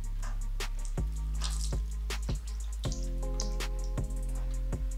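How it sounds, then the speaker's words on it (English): A loaf of bakery bread held under a running kitchen tap, with water splashing and dripping in uneven taps and spatters over a steady low hum, close and fairly quiet. "I want to take this bread that came from the bakery this morning and I'm going to run it under here"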